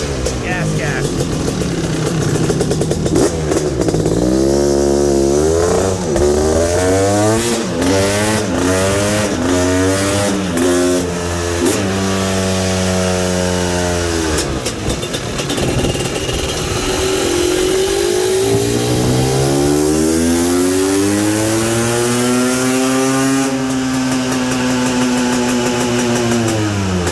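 A 2023 GasGas 500 BRC motorcycle engine on a dyno, loud and close, climbing through repeated long revving sweeps with drops back between pulls and a sustained high-rpm wail near the end.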